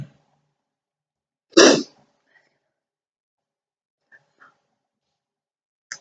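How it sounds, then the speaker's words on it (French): A single sharp sneeze bursts out near the mic, loud and brief, followed by near silence with a couple of faint small sounds. "je vais éternuer."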